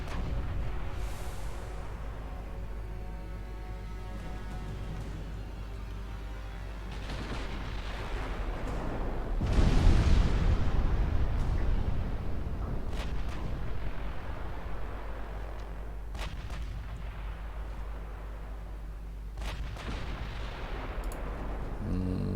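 Naval guns in Ultimate Admiral Dreadnoughts fire 16-inch high-explosive shells in a rolling series of deep booms, one especially heavy blast standing out partway through, followed by scattered sharper cracks over a rumbling backdrop.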